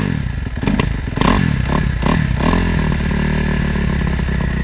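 Close, loud motorcycle engine rumbling while riding, its revs rising and falling, mixed with clattering and scraping.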